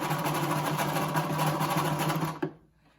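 Sewing machine stitching two pieces of cotton fabric for a cloth face mask, a steady fast motor whir running without a break before stopping abruptly with a small clunk near the end.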